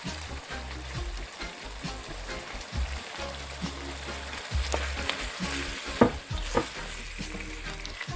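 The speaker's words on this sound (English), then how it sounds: "Now I'm going to add my shrimp back to the pot." Shrimp and saltfish sizzle and are stirred together in a pot for ackee and saltfish, a continuous moderate frying hiss broken by scraping spoon strokes and a few sharper clinks near the end.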